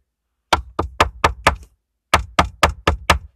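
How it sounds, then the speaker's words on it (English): Knuckles rap on a wooden pulpit in a church: two crisp close groups of five or six evenly spaced knocks, separated by a short pause. "I know I'm knocking on the pulpit"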